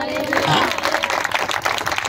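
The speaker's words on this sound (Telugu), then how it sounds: "ఆయన గట్టిగా చప్పట్లు కొడదాం." An audience claps in a church gathering, a dense burst of applause that fills the space with sharp overlapping hand claps.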